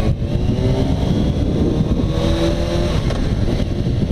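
A Kawasaki 636 motorcycle engine revs and pulls away, a loud steady drone with rising tone held for several seconds, with no talk over it.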